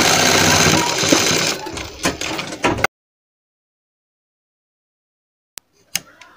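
A sewing machine stitches a sleeve, running in a steady dense whir for almost three seconds before it stops, then a couple of faint clicks follow near the end.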